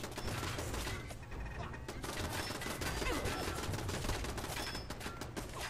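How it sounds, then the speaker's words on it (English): Machine turrets in Fallout 4 firing sustained rapid gunfire, a dense continuous fusillade of shots at steady volume with no pauses. "Why are there so many machine turrets?"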